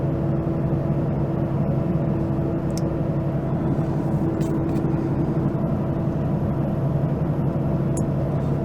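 Truck engine pulling in 7th gear on a steep mountain grade of Highway 14A, a steady droning hum with a constant low tone under faint road noise, no talking.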